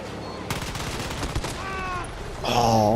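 Rapid automatic gunfire in the shooter game Battlefield 2042, a loud sustained burst of close shots under game noise, with a voice talking over it partway through.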